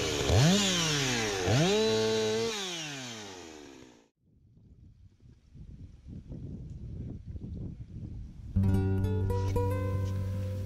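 A chainsaw cutting wood revs loudly with rising and falling pitch, cuts off, then mixed clatter and rumble follow before the engine roars again at steady high speed.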